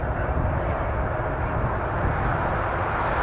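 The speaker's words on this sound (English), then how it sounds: "Cessna Citation." A Cessna Citation business jet roars steadily at an airport, a broad continuous rumble of engine noise holding at the same loudness for a few seconds with no talk.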